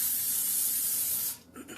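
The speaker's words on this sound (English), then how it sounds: "we're going to spray that with some nonstick spray" A steady hissing spray from a can of nonstick cooking spray onto a 9x13 pan, held for about a second, then a sharp stop followed by a couple of faint clicks.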